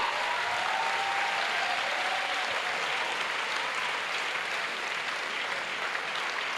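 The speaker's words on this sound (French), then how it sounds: "Oui, acclamez, acclamez, acclamez. Yes, clap." An audience claps steadily at a salvation and healing weekend church gathering in Port-Bouët, a dense, even wash of applause that holds at a constant level throughout with no clear voices.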